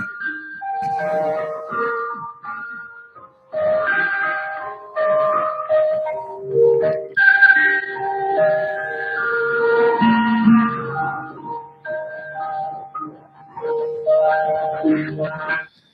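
The old Radio Tirana shortwave interval signal, a chime-like melodic tune of bright tones in repeating phrases that plays on for about sixteen seconds with brief gaps between phrases.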